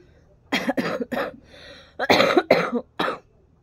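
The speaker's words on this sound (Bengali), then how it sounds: "আর আমার কাশিটা একদম কমছেই না" A persistent chesty cough comes in two close bursts, several harsh hacks in each, separated by a short quiet breath, loud and near.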